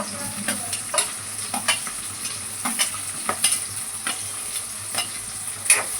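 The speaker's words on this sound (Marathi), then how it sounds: "कांद्याला पण छानसं भाजून घेऊया आपण 5 मिनिटं ठेवून" Onions fry in a pan with chicken and rice for chicken fried rice, a steady sizzle running under repeated soft scraping strokes of a stirring spoon, close and continuous, with no talking.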